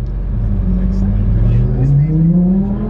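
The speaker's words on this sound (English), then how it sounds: "And that was a Lamborghini." A Lamborghini drives past on a road at the edge of Edinburgh, its loud, close engine tone rising steadily in pitch as it accelerates by.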